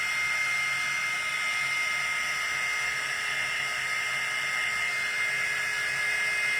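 A heat gun drying paper mache strawberries gives a loud, continuous high-pitched whine over a steady blowing hiss, running unbroken from start to finish.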